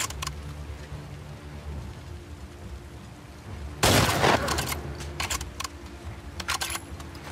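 Sharp bursts of gunfire in The Last of Us Part II crack over a low background hum, with a dense flurry in the middle followed by scattered single shots.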